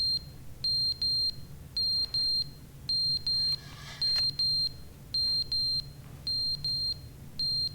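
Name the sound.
alarm beeping in The Stanley Parable Ultra Deluxe video game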